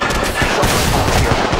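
Loud, close automatic gunfire in Apex Legends Mobile, a continuous rapid burst of shots filling the whole moment.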